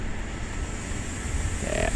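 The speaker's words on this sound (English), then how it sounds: "that's the sound of the APU" Auxiliary power unit running on an airliner in Microsoft Flight Simulator 2024, a steady loud whine and broad rumble held throughout, alone with no voices.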